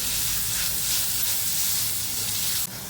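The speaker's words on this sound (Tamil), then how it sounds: "இதை நல்லா இதுலேயே கொஞ்சம் நெய்யிலேயே ஃப்ரை பண்ணணும்" Sapota pieces fry in ghee for halwa, giving a steady, fairly loud hiss and sizzle that cuts off abruptly just before the end.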